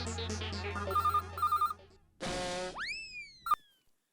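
A phone rings in a comedy scene, repeating short bright electronic beeps over background music, followed by a cartoonish springy boing sweep and a sharp closing ping.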